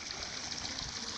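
River water flows steadily over a dam, a broad continuous rush with no breaks, close and fairly loud.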